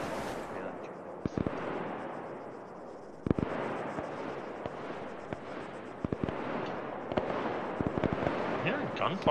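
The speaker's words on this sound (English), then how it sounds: "I'm hearing gunfire to the northeast" Scattered sharp cracks of gunfire in the game Arma 3 pop at irregular intervals, some distant and some nearer, over a steady noisy background with voices talking.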